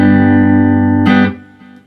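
An electric guitar played through the clean channel of a Boss Katana V3 amp rings out as a sustained chord, then a second strum that fades quickly, loud and close with no talking.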